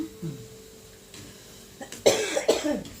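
A couple of sharp coughs near the end, close and fairly loud, after a quiet stretch with faint background sounds.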